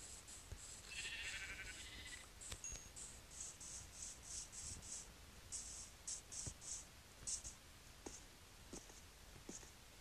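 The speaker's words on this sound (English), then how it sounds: "Ooh, another sheep, let's go." Sheep bleating in the Minecraft video game, several short repeated bleats in a fairly regular run, close and clear over faint background noise with no talk.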